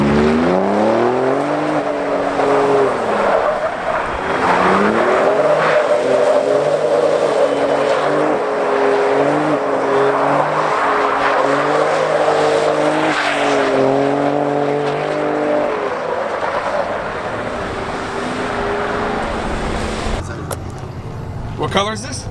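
A Dodge Demon and a McLaren 720S run a roll race, with sustained loud engine roar rising and shifting through gears, tire noise throughout, and people talking over it near the end.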